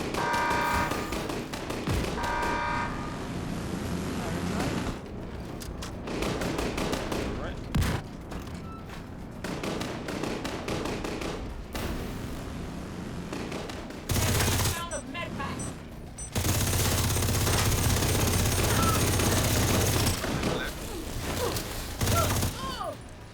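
Automated turret fire in The Division 2 rattles out in long, loud bursts of rapid shots, with heavy thuds and booms breaking in between volleys.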